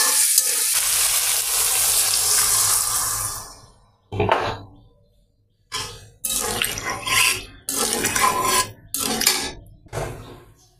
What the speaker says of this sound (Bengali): এই যে ঝোলের জন্য পানি দিয়ে দিলাম